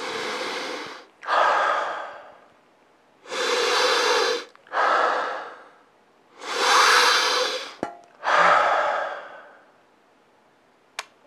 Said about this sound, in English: That's how hard you have to sniff.